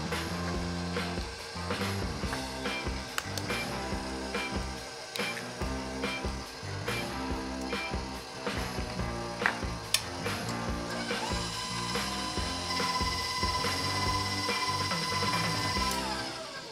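An electric mixer churns eggs, sugar and oil into batter for gluten-free red velvet cheesecake cupcakes, giving a continuous close mechanical whirring and rattling with small knocks, steady and loud throughout with no talking.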